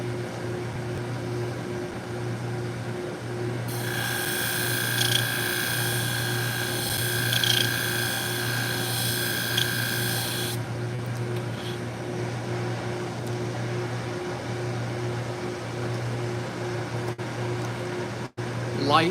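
Salon shears being sharpened on a machine, a steady high rasping grind for several seconds over a constant motor hum, close and fairly loud before dropping back to the hum alone.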